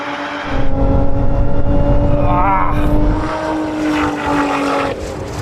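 A powerful sports car engine roars loudly and steadily during a launch, the pitch climbing briefly before settling into a sustained high drone that eases slightly toward the end.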